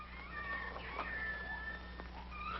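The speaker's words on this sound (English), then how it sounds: "That's just a little baby lion." Lion cub meowing, a few short plaintive mews over a low steady hum and background noise, fairly faint.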